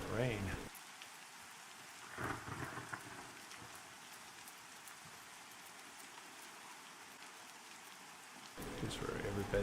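Rain pours in Pantheon: Rise of the Fallen, a continuous soft hiss of falling drops framed by louder bursts of other game sound at the beginning and end, with a brief swell partway through.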